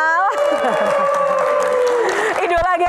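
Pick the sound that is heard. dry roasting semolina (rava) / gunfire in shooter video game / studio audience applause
studio audience applause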